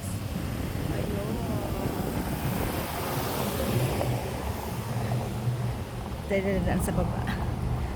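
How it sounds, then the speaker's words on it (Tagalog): Strong outdoor wind in Dubai roars as a steady, heavy broadband rush buffeting the microphone for the whole stretch, with people talking over it. "Ganyan kalakas ang hangin, guys."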